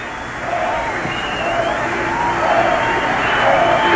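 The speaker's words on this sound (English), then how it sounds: "his home crowd give him a splendid reception" A home crowd at a West Indies Test cricket match at Port of Spain roars steadily in appreciation as batsman Gus Logie reaches fifty, a broad sustained swell of cheering that builds slightly over a few seconds.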